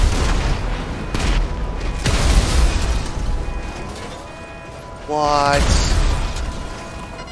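Missiles strike an armored car in GTA Online, producing repeated heavy booms and blasts with crackling debris and fiery rumble, a man briefly exclaiming in between, followed by a rising whistling tone near the end.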